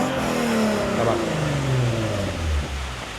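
A Lexus IS350 F Sport engine revs close up. The note climbs and then falls back in pitch, and a brief spoken word sits over it.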